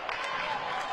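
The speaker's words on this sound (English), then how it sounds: "And this very biased crowd cheering on its Saints." Applause and cheering rise from a partisan crowd at a women's college volleyball tournament match, a brief steady wash of clapping.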